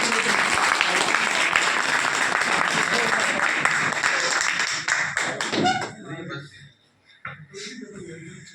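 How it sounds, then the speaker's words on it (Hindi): Loud applause from a crowd at a leadership training session fills the first several seconds, then fades out, leaving a voice speaking briefly afterward. "एक बार जोरदार तालियां"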